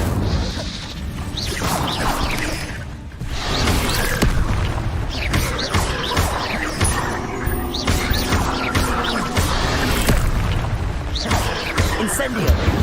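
Incendio fire spells cast in rapid succession during Hogwarts Legacy combat, a dense run of whooshing bursts and booming impacts under constant battle noise, with a voice speaking over it.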